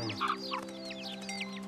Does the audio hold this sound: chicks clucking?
yes